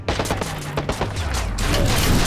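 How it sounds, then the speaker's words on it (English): Enemy gunfire in Watch Dogs, a rapid run of sharp shots and bursts firing close by, thick and loud over a rumbling game backdrop with no talking. "there's still another one down on the ground level shooting at me"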